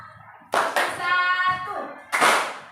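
Children in an Indonesian primary classroom clap, with sharp bursts of hand claps at the start and again near the end. Voices talk and answer between the claps.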